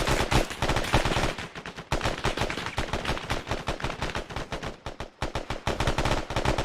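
Sustained automatic gunfire from an Arma 3 firefight during a military training mission, with rapid, loud bursts of shots that repeat almost continuously, the rattling volleys barely pausing.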